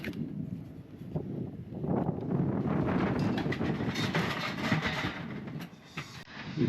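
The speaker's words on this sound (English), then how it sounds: "It's freaking windy today." Steady wind rushes across the microphone in loud gusts, a broad continuous roar with buffeting that rises and falls throughout.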